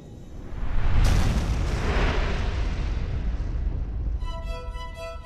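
A huge Big Bang explosion effect bursts out as a deep, loud roaring boom and rumbles on for several seconds. It fades into a shimmering synthetic ringing tone near the end, with no voices.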